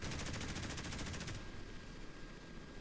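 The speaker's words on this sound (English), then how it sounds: "Okay, those are secondaries firing." Rapid-fire secondary guns on a warship in the naval combat game Modern Warships chatter loudly as a dense burst of shots, the staccato stopping partway and leaving a steady roar of gunfire and battle noise.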